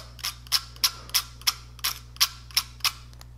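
A flathead screwdriver scrapes across a vape atomizer coil in a rapid series of about nine sharp, evenly spaced scratchy clicks, close and crisp over a faint low hum.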